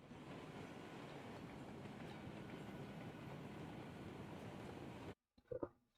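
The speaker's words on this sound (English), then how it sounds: "The train picking up speed." A long freight train in the Railroads Online railway game rumbles steadily with dense wheel and rail noise, loud and continuous, then cuts off abruptly near the end, leaving a few faint knocks.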